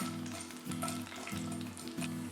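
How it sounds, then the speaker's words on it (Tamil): Chana dal and urad dal sauté in oil in a pan, making a soft, continuous sizzle with a few faint stirring scrapes, fairly quiet and with no voices. "கடலைப்பருப்பு, உளுத்தம்பருப்பு, இதை வந்து நம்ம வதக்கிக்கணும்."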